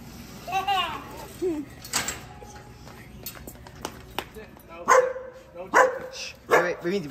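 A dog barks in several sharp bursts, loud and close, spaced irregularly among children's voices and speech during an outdoor 5K gathering.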